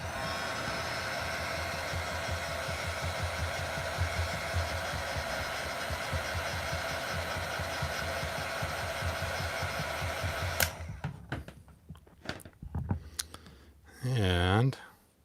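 A heat gun or hair dryer blows steadily with a loud, constant rush while it warms plastic action figure armor. It cuts off partway through and is followed by scattered clicks and handling noises.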